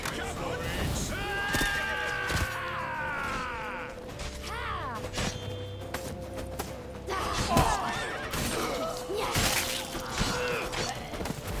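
A horse whinnies in The Witcher 3 amid a chaotic scene, with clopping hooves, crashes, and shouting voices layered over a steady background bed.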